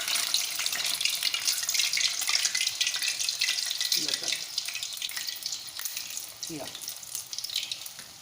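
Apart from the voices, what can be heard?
urad dal vada frying in hot oil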